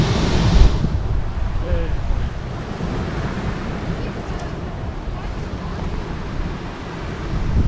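Sea waves washing onto the pebble beach at Nice, a continuous rumbling surf mixed with heavy wind buffeting on the microphone, close and fairly loud.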